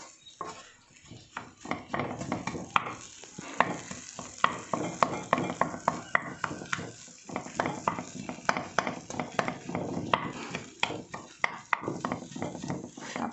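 Boiled tapioca being mashed with egg in a pan, heard as repeated close thumps and scrapes of a spoon pressing into the mixture in an irregular rhythm, with a light sizzle underneath.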